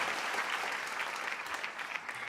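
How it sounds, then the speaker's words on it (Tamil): Studio audience at a Pongal special on a Tamil TV show applauding to welcome a speaker, a dense, steady wash of clapping at close range, with no voices over it. "அவரையும் அன்போடு நான் கரகோஷியோடு வரவேற்கின்றேன்."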